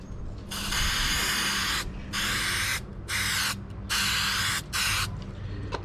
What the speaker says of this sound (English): Okay, so I'm going to be using some spray adhesive.